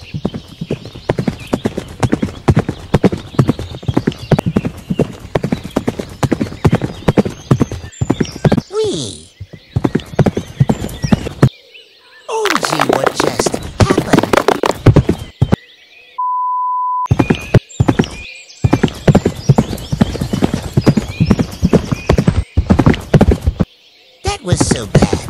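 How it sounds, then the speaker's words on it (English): Horse cantering, with loud, close, rhythmic hooves clip-clopping through most of the stretch, a short pause midway and a single electronic beep, with only light background sound. "Time to canter."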